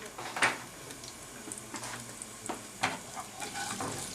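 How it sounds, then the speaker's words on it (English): Quiet, crackly sizzling of cumin seeds in hot oil for tarka dhal, with a few sharper pops and light stirring scrapes. "your cumin seeds just start to sizzle like that"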